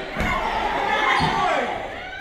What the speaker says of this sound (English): And right at the last second, Dorian Weber, oh my God, right into that door.